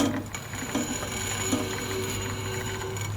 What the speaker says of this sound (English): So that stainless is now scraping that wheel.